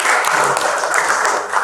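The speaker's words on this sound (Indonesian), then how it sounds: "Tepuk tangan buat jawabannya Said." A classroom of students claps loudly for a classmate's answer, a brief, dense burst of applause that fills the room evenly from start to finish.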